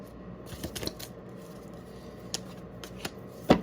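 Tarot cards being shuffled and drawn for a pick-a-card reading: a few crisp, close snaps and flicks scattered over a quiet riffling rustle, with a sharper slap near the end and no talking.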